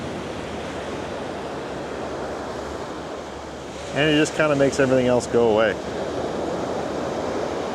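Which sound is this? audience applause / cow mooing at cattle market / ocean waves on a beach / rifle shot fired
ocean waves on a beach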